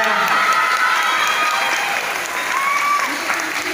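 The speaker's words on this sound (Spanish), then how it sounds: "pido un fuerte aplauso de parte de las alumnas" Loud, close applause from pupils and parents at a school event, a dense sustained clapping crowd with voices and a whistle-like tone threaded through it.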